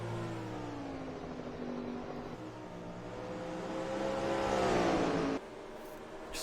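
A stock car in an iRacing video game race at Richmond accelerates hard off a corner, its engine note rising steadily to a loud peak and then cutting off abruptly, with no talk over it.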